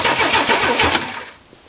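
A Chevy squarebody pickup from 1978 or 1980 cranks over on its starter with a steady, loud rhythmic churn, then winds down into quiet without catching.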